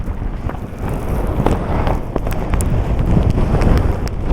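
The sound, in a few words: strong wind on cliffs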